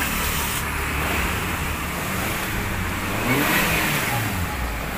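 A Maruti Suzuki Baleno CNG car with a no-start fault runs its engine up, giving a steady mid-pitched rumble that swells briefly as it revs, heard close and without voices.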